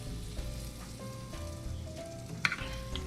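Waffle batter sizzles and crackles steadily on the hot plates of a Pokemon waffle maker greased with non-stick spray, with a soft continuous frying hiss, a few faint tones and a brief sharp clatter near the end.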